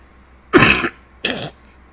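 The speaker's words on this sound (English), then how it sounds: "I'm going to cough for a second." Two deep, loud coughs from one person, close to the microphone, the first longer and the second shorter after a brief pause, against quiet.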